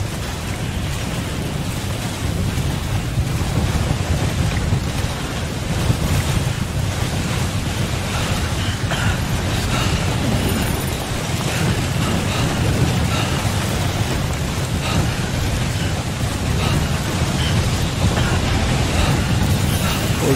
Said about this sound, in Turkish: Fırtınadan çabuk çıkmamız lazım.